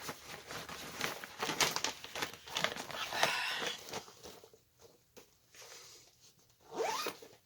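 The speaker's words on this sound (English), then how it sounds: "The zipper just came off of that." A zipper on a bag is drawn open in several quick rasping pulls with rustling of fabric between them, close and quiet, with no talk.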